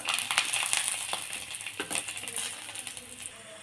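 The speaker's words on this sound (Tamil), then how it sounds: "அந்த எண்ணெயிலேயே பெருங்காயை கட்டி ஒரு மூணு பல் பூண்டு அதை போட்டு வறுத்துக்கலாம்" Asafoetida lump and three garlic cloves frying in oil, close crackling and popping sizzle with sharp spits scattered through the moment, fading a little toward the end.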